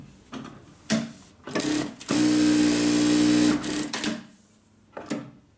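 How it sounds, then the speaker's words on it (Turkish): A new automatic straight-stitch sewing machine runs its first stitch in a steady mechanical burst of about a second and a half, close and loud, framed by short clicks and thumps of the mechanism before and after. "İlk dikişimizi yapalım."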